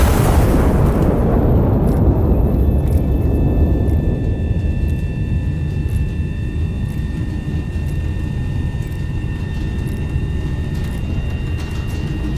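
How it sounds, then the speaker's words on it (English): High-explosive shells fired and detonating in a video game, a dense continuous roar of blasts and rumble with faint sharp pops, loud and steady throughout with no talking. "We were just blasting HEs at random people."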